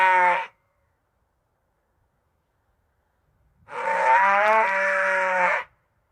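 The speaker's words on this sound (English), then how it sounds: "Or sheep bleating, I don't know." AI-generated sheep bleating: a short bleat, a pause of silence, then a longer wavering bleat of about two seconds, close and clear with nothing else around it.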